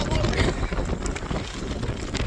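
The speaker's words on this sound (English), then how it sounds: "it's windy and blustery." Gusty wind roars and buffets the microphone in a constant broadband rush on an exposed hilltop, with no clear voices over it.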